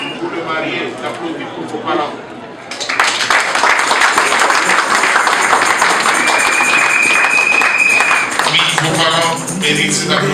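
Applause from guests at a wedding reception, a dense wash of clapping rising suddenly and holding steady, loud and close, with voices and crowd noise mixed in and a brief whistle-like tone partway through.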